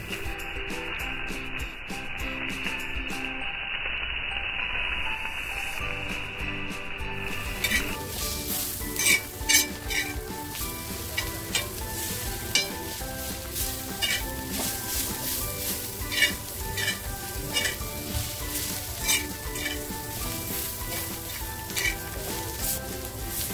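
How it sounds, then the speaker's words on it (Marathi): Fried cluster beans tip into a hot pan for a spicy thecha. A steady sizzle follows, broken by repeated clinks and scrapes of a spoon against the pan. "आणि आता जी गवारी फ्राय करून घेतली आहे ना, ती टाकते।"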